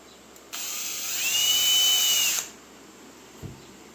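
A power drill drives a 3-inch number 9 construction screw into wood for shop steps. A loud whine rises, holds for about two seconds and cuts off, followed by a faint knock.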